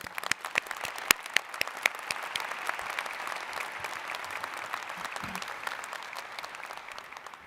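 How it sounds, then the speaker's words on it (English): Steady applause from a large audience at a medical college commencement ceremony, dense clapping with a few sharp, close individual claps standing out throughout. "Please join me in a round of applause for Dr."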